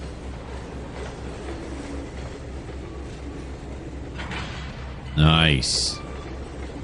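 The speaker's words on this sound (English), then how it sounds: "Love that coupling sound." A loud metallic clank and squeal of train cars coupling in the Trainz 2019 video game, brief and sharp, over a steady low rumble, with a short spoken word just before.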